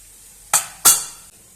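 Mustard seeds and cumin dropped into hot oil for rava upma, giving two sharp bursts of crackling sizzle that fade quickly, close and fairly loud.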